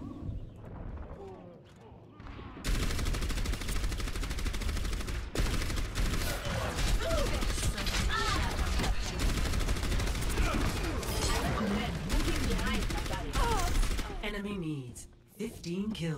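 Gunfire in the game Overwatch, including sniper rifle shots: a dense, sustained barrage of close shots and impacts that runs for most of the stretch, with voices talking over the battle.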